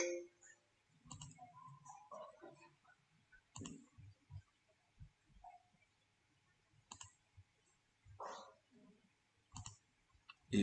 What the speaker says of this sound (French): je clique sur terminer